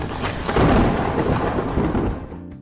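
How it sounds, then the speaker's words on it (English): Thunder rumbles loud and continuous during a storm, a deep rolling boom that swells early and slowly fades away near the end. "I summoned thunder."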